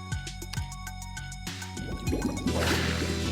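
Splashing and gurgling as a character wades into water in the game Spectacle, a short liquid burst building to a louder watery wash over background music.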